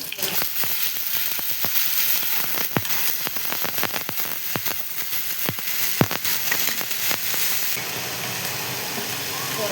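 Chopped onion sizzling and crackling in a hot pan during home cooking, a steady broadband hiss with scattered sharp pops and faint clinks throughout, loud and close.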